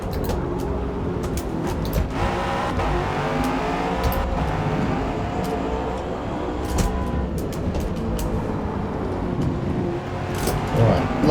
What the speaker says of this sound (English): it's a GT2 car on the map.